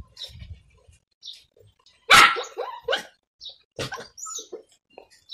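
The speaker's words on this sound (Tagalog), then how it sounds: "Maingay yung aso nila dun sa kapitbahay." A dog barks several times in short, sharp bursts, fairly close, with quieter yips and rustling between the barks.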